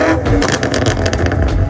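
BMW M5 F90 Competition engine with a titanium exhaust system, running loud and close with a continuous deep roar and rising rev surges throughout, no talk over it.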